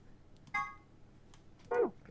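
Two short dialing tones from a phone keypad in the video game Virtue's Last Reward, one near the start and one toward the end, clear and electronic against a quiet background.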